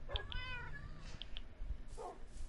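Several distinct cat meows from a Minecraft game on Bedrock/PS4, a few short calls spread across a couple of seconds over a soft game background, with no talking.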